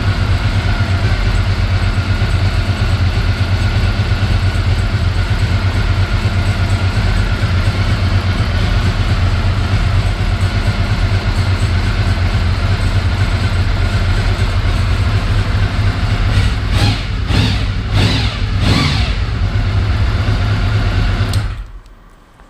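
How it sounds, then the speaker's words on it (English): A motorcycle engine idles steadily at about 750 RPM after a cold start in an enclosed space, loud and close with an even low throb, a few brief revs or knocks near the end before cutting off. "It's idling at about 750"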